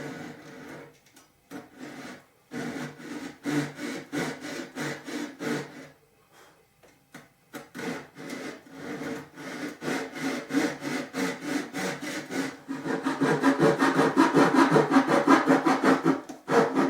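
A hand saw cuts around a workpiece in steady, rhythmic back-and-forth strokes, with brief pauses between runs and faster, louder sawing toward the end, no voices.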